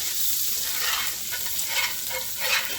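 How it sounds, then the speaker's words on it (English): Garlic sautés in a pan and is stirred around, making a dense, close, steady sizzle that swells slightly with each pass of the spoon, with no voices. "So I'm just going to stir that around like that."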